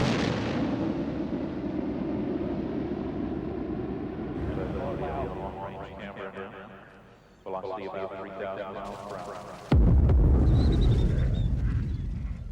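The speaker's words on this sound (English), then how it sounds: "The shuttle announces its arrival with 2 sonic booms as the leading edge of the wing and tail break the sound barrier." Space shuttle descending to land, announcing its arrival with two sharp sonic booms from the wing's leading edge and tail; two sudden, loud broadband thumps follow a low rumble, with a voice narrating over parts of it.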